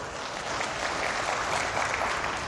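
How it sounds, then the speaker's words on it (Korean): Audience applause at a lecture event honoring a newspaper reporter, a steady wash of many hands clapping at moderate volume that fills the whole span evenly, no speech over it. "큰 박수 한번 주세요."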